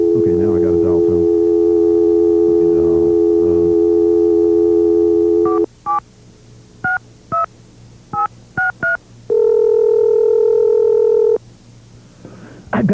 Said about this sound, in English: Okay, now I got to dial tone.